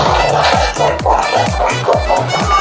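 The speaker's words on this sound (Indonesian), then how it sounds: "Tepuk tangan anak-anak." A classroom of children clapping together in a rhythmic chant-like pattern, regular beats landing about twice a second, loud and close, with excited young voices shouting along.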